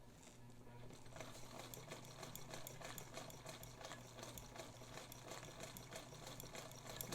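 A vintage Necchi BU Mira sewing machine runs steadily, stitching a long, wide zigzag with a continuous rhythmic whir and needle clatter at close range, with no talking.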